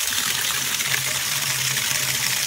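Water gushing steadily from a hose or tap into a horses' bathtub, a loud continuous rushing close by, with a low hum under it.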